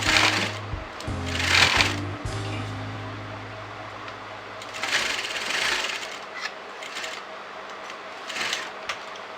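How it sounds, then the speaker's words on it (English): A sewing machine stitches a fabric piece onto a bodice for a designer neckline, running in short bursts separated by pauses, with handling sounds of the fabric between runs. "So first I'm going to join this piece along with the bodice"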